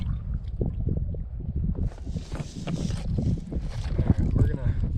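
Canoe paddle strokes splash and knock against the water in a steady rhythm, close by, with low boat thumps and voices talking over it.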